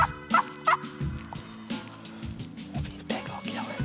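A wild turkey gobbles twice in quick succession, fairly close, in rugged South Carolina terrain, followed by softer clucks and rustling outdoors.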